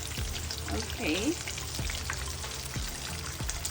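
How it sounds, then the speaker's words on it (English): Cheetos Flaming Hot coated chicken tenders fry in hot oil, giving a steady close sizzle broken by a few crackles and pops. A faint scrape or stir comes partway through. "they are frying really well"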